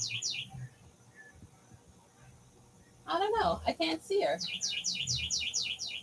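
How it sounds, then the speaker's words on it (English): A bluebird sings outdoors in a series of quick, high chirping phrases, faint at first and clearer at the end, with a person talking over the middle. "Oh, it's a bluebird."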